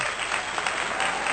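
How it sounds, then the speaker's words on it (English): Steady, dense applause from a group, a continuous bright wash of clapping at moderate loudness with no pauses or voices. "y'all go ahead and clap it on up."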